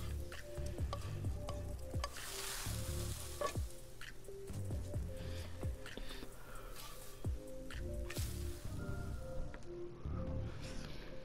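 Food sizzling as a Sims character cooks in a video game, a continuous frying hiss with repeated light clicks and utensil taps, steady and close throughout.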